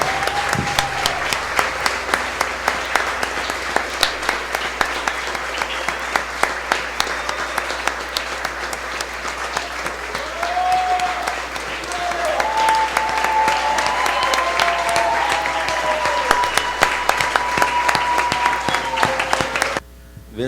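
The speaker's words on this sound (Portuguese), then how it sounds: "Vamos aplaudi-lo?" Church congregation applauding during a worship service, sustained dense clapping that runs for about twenty seconds with a few faint tonal voices or cheers drifting above it.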